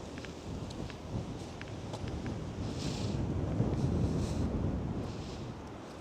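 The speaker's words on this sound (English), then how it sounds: "It's so windy that I'm putting the microphone to good use and hoping it blocks out as much wind as possible." Strong wind buffets an outdoor microphone near a river during a May snow blizzard, producing a continuous loud roar that swells slightly midway, with no voices.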